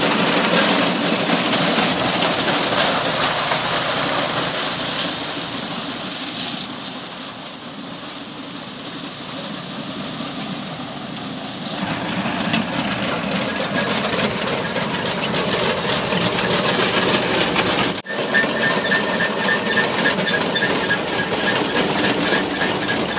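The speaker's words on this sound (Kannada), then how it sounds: "ಇದೇ ನೋಡಿ ಟ್ರ್ಯಾಕ್ಟರ್ ಮೌಂಟೆಡ್ ಫ್ರಂಟ್ ರೀಪರ್ ಅಂತ" A tractor-mounted front reaper cutting a jowar (sorghum) field runs close by, its engine droning continuously with a steady mechanical clatter that dips briefly and swells again, with no voices.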